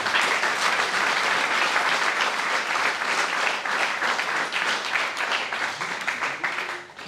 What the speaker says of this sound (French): Et on peut les applaudir, et je souhaiterais que les applaudissements.